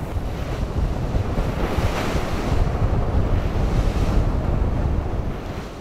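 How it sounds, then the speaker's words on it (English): Wind and waves of the cold North Sea off northern Germany: steady, loud surf wash and buffeting wind gusts over the microphone, with no voices. "Off the coast of northern Germany, in the frigid waters of the wind-lashed North Sea"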